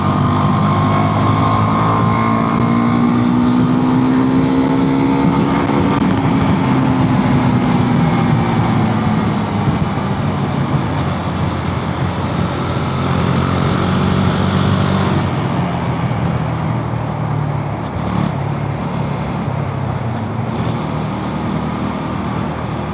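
Motorcycle ride along a road in Colombia, with a steady, loud engine drone and road roar throughout, pitch rising and falling as the bike accelerates, plus passing traffic noise.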